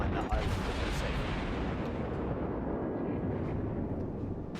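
Heavy naval gun salvos from a tier 3 cruiser, the St. Louis, in World of Warships, a dense rumbling roar of booming fire and explosions filling the whole span, loud and continuous with faint voice beneath.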